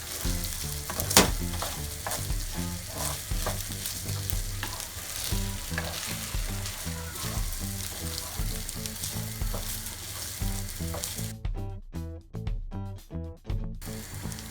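Rice and ingredients for Turkish iç pilav roasting in a pan, a steady sizzle with rhythmic scraping and stirring strokes throughout, close and moderately loud, with the sizzling quieting near the end.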